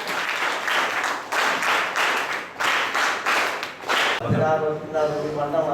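Clapping from an audience at a closing ceremony of a de-addiction camp, a series of bursts of hand claps with brief pauses, ending as a voice takes over near the end.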